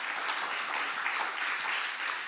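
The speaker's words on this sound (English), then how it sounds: "please welcome them with a big round of applause" A forum audience claps in steady, dense applause from start to finish, moderately distant and even in level with no voices standing out.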